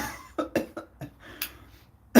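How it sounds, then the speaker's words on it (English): Short bursts of coughing and throat clearing from one person, several sharp separate hacks spaced irregularly, close and fairly loud against a quiet background. "A big coughing machine."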